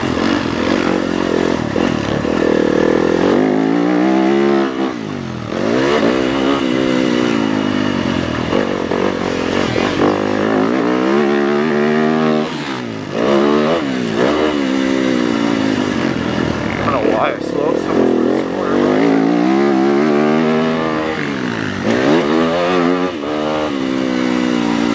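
Yamaha YZ250X two-stroke and YZ250F four-stroke dirt bikes ridden at Aztec Family Raceway, engines revving and surging continuously through the whole stretch, loud and close with repeated rises and drops in pitch.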